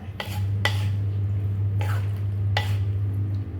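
A spoon stirring Thai tam mama noodle salad with crispy squid and fermented fish sauce, giving a few soft scraping, clinking strokes in a bowl over a steady low hum, with no talking.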